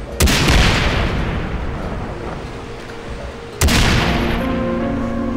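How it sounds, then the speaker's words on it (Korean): Two loud explosive blasts from explosive rounds in the video game Far Cry 3 Blood Dragon, one at the start and a second a few seconds later, each followed by a long rumbling decay with no talk. "이것도 폭발하는 탄이니 폭발물 맞잖아"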